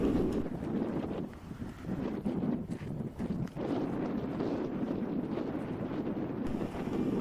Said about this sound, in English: even on a real windy day like today